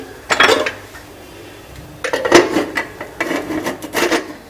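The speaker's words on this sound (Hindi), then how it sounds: "हम कुकर बंद कर देंगे" Metal clattering and scraping of a pressure cooker lid being fitted and closed, a few close bursts of clanks with short pauses between.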